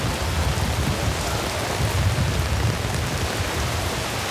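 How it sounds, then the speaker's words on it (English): Heavy rain pours down at the Genesis open-air concert in 2007, a dense, steady roar of drops with no gaps and no voices. "We've always had rain on Genesis Open Air, but this is ridiculous."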